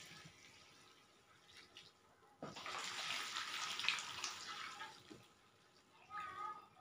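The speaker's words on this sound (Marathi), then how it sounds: "हे उकळलेलं आहे पाणी, तर ते आता घालून घेते." Boiled hot water pours in a steady splashing rush for a few seconds, louder than the quiet room tone before it, then fades.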